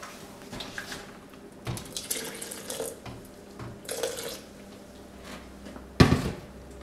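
Water runs from a tap in intermittent gushes, mixed with kitchen clatter and a sharp knock near the end.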